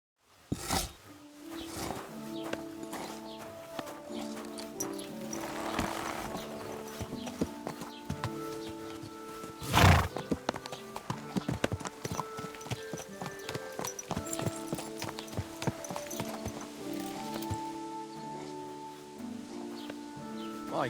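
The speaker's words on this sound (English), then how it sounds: "My God, that looks like a bloody expensive horse." A horse walks with steady hoof clip-clops and gives a brief neigh in the medieval Bohemian setting of the video game Kingdom Come: Deliverance II, over soft ambient music with faint rustling.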